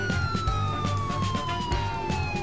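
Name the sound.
police car siren in Driver San Francisco video game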